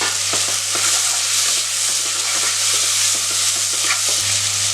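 Chopped tomatoes and onions sauté in a pan with coriander leaves, giving a continuous close sizzle and hiss broken by occasional soft stirring taps, with a low steady hum underneath.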